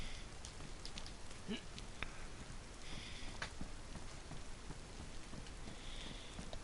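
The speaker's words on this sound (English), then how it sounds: "Mind for this rain to stop though." Steady rain in the survival video game DayZ, a constant hissing patter filling the whole stretch with faint scattered drips, no pauses.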